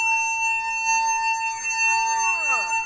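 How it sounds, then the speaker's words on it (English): Fire alarm ringing aboard a cruise ship: a loud, steady electronic tone with a shrill harmonic stack, unbroken and close. Sweeping tonal sounds near the end sit beneath it. "I just pulled the fire alarm"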